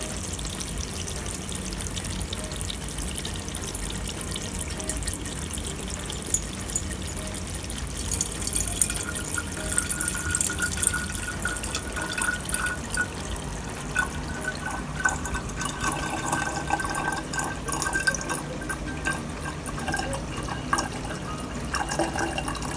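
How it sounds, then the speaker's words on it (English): Homemade virgin coconut oil pours into a bottle in a kitchen in St. Lucia, a steady, moderately loud trickling liquid stream that runs continuously with small splashy drips and no talking. "And we're pouring into a bottle"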